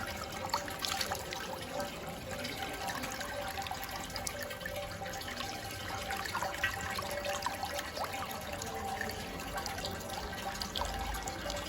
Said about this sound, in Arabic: تحت الارض بقى في مية، وده العجيب والغريب في الكنيسة دي.